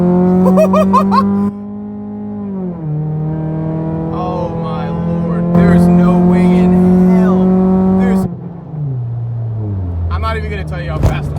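Honda Accord with a nitrous oxide kit accelerating hard, a loud steady engine drone with rising and falling pitch, shifting gears twice, with excited talking over it.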